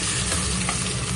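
Hilsa fish pieces frying in hot oil, a steady close sizzle with faint stirring noises running throughout, no voices.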